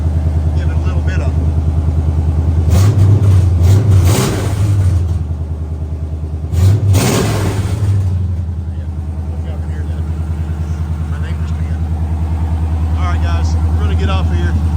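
Custom-built truck engine idling with a deep, loud, steady rumble, revved twice in short bursts that rise and fall, while someone talks over it.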